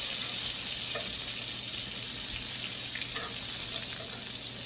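Butter melts and sizzles in a pan of browned meatball drippings and flavored oil for Swedish meatballs, producing a loud, even frying hiss throughout with a few faint stirring scrapes and no talking.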